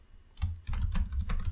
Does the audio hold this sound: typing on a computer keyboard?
yes